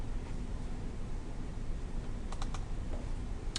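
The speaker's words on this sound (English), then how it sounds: "So let's go ahead and type that up." Steady clicking of keys on a computer keyboard as text is typed up, continuous light tapping over a soft background hiss, with a few sharper key strikes near the end.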